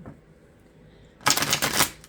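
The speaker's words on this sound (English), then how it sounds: "Couple more shuffles and we'll get started." After a quiet moment, a deck of cards is riffled close by, a crisp rapid flutter lasting under a second.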